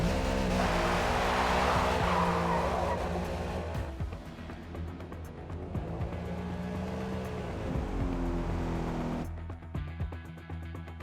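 A race car lapping a track during practice in Forza Motorsport, its engine roaring steadily and loudly, then dropping and shifting through gears with faint tire noise and a brief lull near the end.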